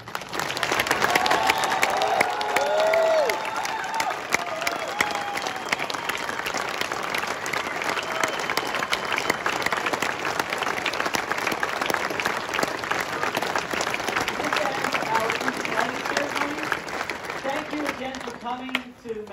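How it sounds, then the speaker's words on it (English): A large outdoor audience applauds service members on stage at the Mount Rushmore flag retreat ceremony: dense, steady clapping with scattered cheers, running for nearly twenty seconds before thinning out at the end. "let's show them how we feel about them one more time with a round of heartfelt applause"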